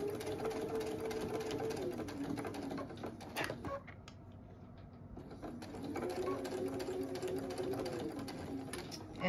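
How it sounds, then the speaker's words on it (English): Home sewing machine stitching fabric in a sewing room: a fast, even mechanical whir that runs, stops briefly and then starts again, quiet and close. "I'm going to try and do a little straighter stitch for you this time."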